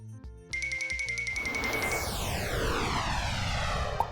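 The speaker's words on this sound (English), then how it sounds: "This is a jet." A jet aircraft roars past, its engine noise swelling into a steady broadband rush with a falling whine as it moves by, following a short musical jingle at the start.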